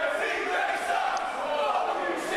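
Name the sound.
wrestling crowd chanting against CJ Carter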